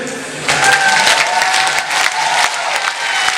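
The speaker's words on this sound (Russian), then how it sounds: "А теперь покажем нам, как хлопают победители." At a large youth forum, a crowd bursts into loud, energetic clapping with some cheering. The applause swells quickly and keeps going with a rhythmic, animated feel.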